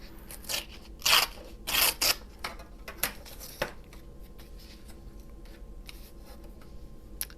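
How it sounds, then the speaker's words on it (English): Scissors snip at fabric for pennant flags, a few crisp close cuts clustered early, then softer scattered snips and rustles in a quiet room. "Give a little snip, just a tiny one into the corner."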